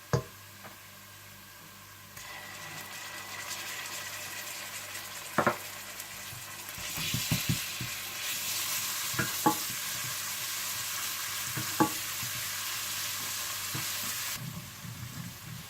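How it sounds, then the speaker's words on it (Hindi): Onion, ginger and garlic fry in a hot pan while being stirred for an aloo gobi masala. A steady close sizzle carries on throughout, broken by sharp spoon scrapes and knocks against the pan. "और जैसे ही प्याज हल्के से गोल्डन ब्राउन होने लगे तो आप इसमें अदरक लहसुन डालकर भून लें।"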